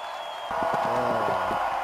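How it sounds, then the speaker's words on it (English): Crowd cheering in the video game Mr. President!, a short swell of game crowd noise that rises abruptly and holds steady with rhythmic chant-like tones, moderately loud with no talk over it. "Oh! Yeah, they're definitely cheering rump."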